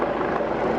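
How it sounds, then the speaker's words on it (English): Helicopter flying overhead near a kiteboarding spot, a steady, loud rotor and engine rumble with no clear break through the short span. "have a helicopter here"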